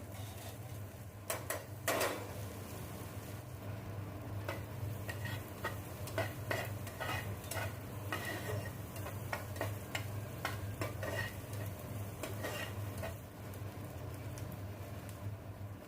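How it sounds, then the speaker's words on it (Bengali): Chopped ginger, chili, garlic and white spring onion lightly fried in a pan for chili chicken, with a steady soft sizzle under repeated sharp clicks and scrapes of a spatula stirring. "তার মধ্যে আদা কুচি, লঙ্কা কুচি, রসুন কুচি আর স্প্রিং অনিয়নের যে সাদা পার্টটা থাকে সেটা দিয়ে খুব ভালো করে এটাকে হালকা হালকা করে ভেজে নেব।"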